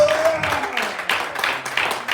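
A church congregation claps during a sermon, a steady dense patter of many hands filling the space at moderate loudness, with a faint tone and voices briefly audible beneath.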